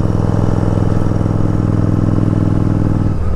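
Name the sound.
Yamaha Virago motorcycle engine idling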